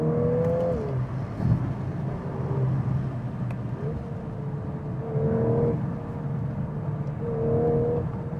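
Volkswagen Golf R engine heard from inside while driving on a cold, slippery road, a steady drone with repeated rising and falling rev changes as the car accelerates and shifts.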